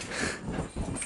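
A dog gives a few faint whines and soft yips, close but quiet, over a busy rumbling background.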